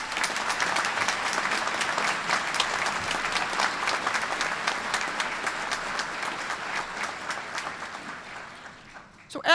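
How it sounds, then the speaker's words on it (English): A graduation ceremony audience applauds steadily in a large hall, dense clapping holding for most of the stretch before thinning and fading near the end. "let's give that good man and an alum a round of applause"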